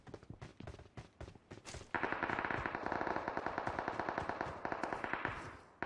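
Gunfire in the PUBG video game zombie mode: a few separate shots, then a long, fast, loud burst of automatic fire that rattles on steadily for several seconds.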